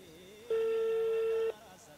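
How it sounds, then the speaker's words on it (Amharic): A single electronic telephone ring tone, a steady one-second burst during a TV call-in show, loud and clear against a quiet background. "እየጠራ ነው"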